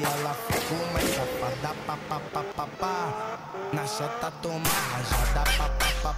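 A motorcycle races in GTA San Andreas, its engine rising and falling in pitch with tire squeals and skids, playing loudly throughout with speech mixed in.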